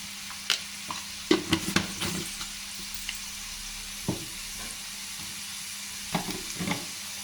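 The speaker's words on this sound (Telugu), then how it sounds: "బాగా వేగనిద్దామండి." Eggplant masala being stirred in a pan for masala vankaya, with scattered spoon scrapes and light sizzling bursts over a quiet steady background, no talking.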